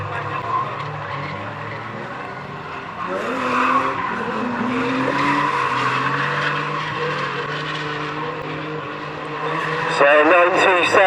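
Race cars lap Standlake Arena oval, engines droning steadily with tires skidding and squealing and a louder car sweeping close near the end, beneath continuous commentary.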